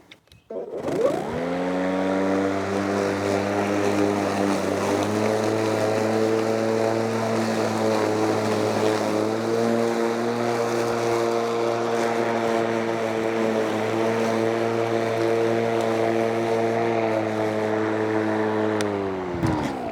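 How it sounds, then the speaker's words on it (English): A LawnMaster 19-inch cordless mower, model CLMF4819A, cuts long grass, its electric motor spinning up with a steady loud whirring hum and a strained tonal drone that holds for nearly twenty seconds before winding down, with no speech. "that motor was stepping up its power once it got to that really, really long grass"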